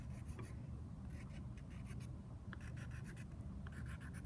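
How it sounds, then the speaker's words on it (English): Star shapes are scratched into painted paper as part of a fourth-grade art lesson: a faint, close, dry scraping in short repeated strokes, with no voices. "And you can go ahead and scratch stars through here."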